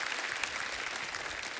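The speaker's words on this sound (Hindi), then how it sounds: "एक बार मनीषा जी और महिमा जी के लिए जोरदार तालियां हो जाए" Studio audience applauding guests on The Kapil Sharma Show: dense, steady clapping throughout, fairly close and even in loudness, with no talking.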